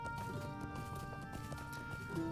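Horse hooves clip-clopping in the Lord of the Rings Online game, a steady rhythmic patter under a bed of in-game music, moderately faint and continuous.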